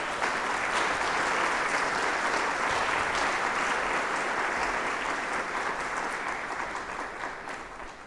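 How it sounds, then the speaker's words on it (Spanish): Church congregation applauding at a Sunday service, a dense, steady wash of clapping that holds loud for about seven seconds before tapering slightly at the end. "¿Cuánto le damos un aplauso al Señor por eso?"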